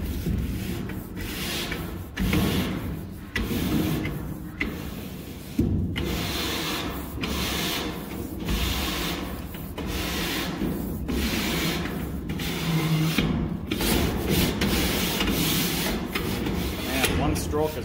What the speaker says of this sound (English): I'll show you how it scrapes the soot off